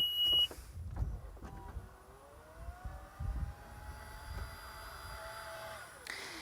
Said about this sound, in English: that's the hands-free power tailgate. So just wave your foot under the bumper to open it up.